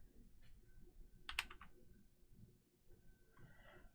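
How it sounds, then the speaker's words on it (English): A Windows computer keyboard being typed on: a brief cluster of quick key clicks near the middle, plus a few fainter isolated taps, close and quiet, with no talking. "Let's Windows key semicolon here to bring up our emoji keyboard."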